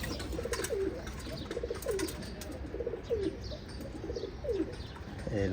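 Pigeons coo in repeated low rolling calls roughly once a second, close and steady, with faint wing flutters and chirps behind them.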